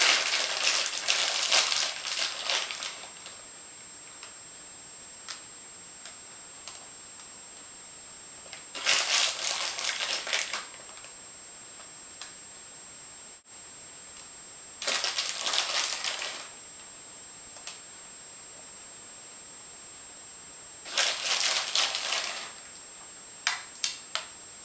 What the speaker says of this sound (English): you can go get your chocolate chips and sprinkle them on